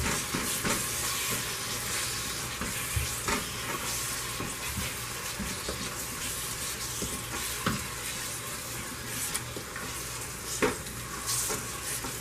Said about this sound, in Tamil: புதினா, இதெல்லாத்தையும் போட்டு நல்லா மிக்ஸ் பண்ணிக்கலாம்.